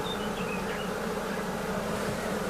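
Steady, dense buzzing of many honeybees at an open hive, a continuous droning hum close by with no pauses.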